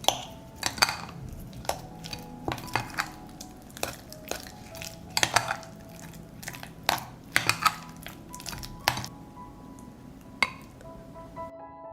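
Soft butter worked together with garlic paste and dried rosemary by hand, giving irregular squelches and sticky smacks with occasional clinks of a bowl or utensil, close and moderately quiet, with no talking.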